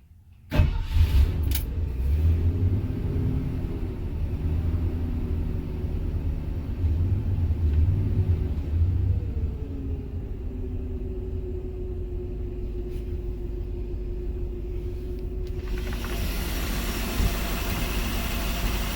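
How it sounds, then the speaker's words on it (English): A converted public service bus engine cranks and catches, then settles into a steady low rumbling idle that runs close and loud for most of the stretch, alone without voices. "next we'll turn on the engine so you can see how it runs"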